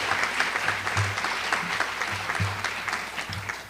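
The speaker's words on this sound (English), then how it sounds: "Get some applause." Audience clapping at a spring sports awards ceremony for a school team's MVP, steady, dense applause filling the hall throughout.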